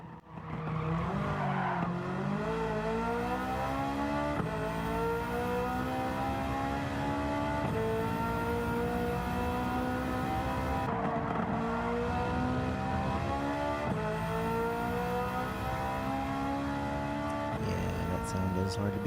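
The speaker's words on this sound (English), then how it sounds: "it's probably one of the better sounding cars in the entire game" Race car engine in the Gran Turismo 7 driving game, a loud continuous roar with rising and falling pitch through gear changes and tyre squeal, steady for the whole stretch with no talking.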